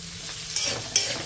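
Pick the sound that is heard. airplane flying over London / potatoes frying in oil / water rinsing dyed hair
potatoes frying in oil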